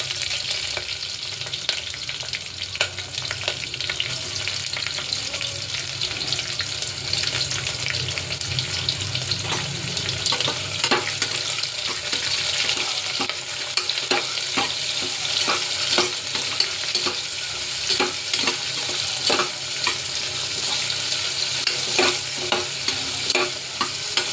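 Five green chillies and chopped onions frying in a pan for a home-style biryani, a continuous sizzle with frequent scraping stirs and clinks of the spoon, close and steady, with no one talking.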